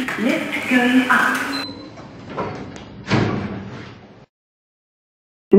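Lift doors slide open in a Roblox game on an old lift with Thames Valley controls, a fairly loud, sustained rumbling whoosh with a thud partway through, ending abruptly in silence.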